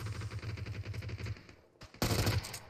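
Automatic gunfire in the battle royale game PUBG, a rapid rattling burst for over a second, a brief lull with a single crack, then another loud burst, all fairly close.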